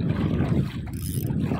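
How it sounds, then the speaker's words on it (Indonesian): Strong wind buffets the microphone in a continuous low roar by fast-flowing water during a fishing outing, steady and fairly loud with no voices. "Anginnya kencang sekali cuy."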